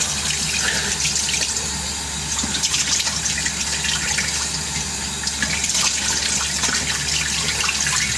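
Cold water runs steadily from a sink tap, a continuous close splashing stream that stays even throughout with no voices.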